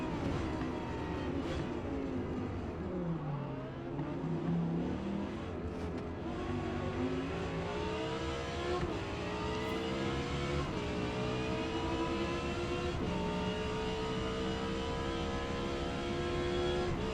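An Audi R8 engine in Forza Motorsport at Yas Marina drones loudly and steadily for the whole stretch, climbing and dropping through the gears, with other race cars roaring nearby.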